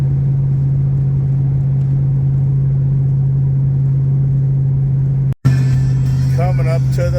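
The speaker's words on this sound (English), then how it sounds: "This truck at high speeds, the wheels and tires are really balanced well." Cabin drone of a truck cruising at high speed, a steady low hum with road noise, cut by a brief dropout before the drone resumes under a voice.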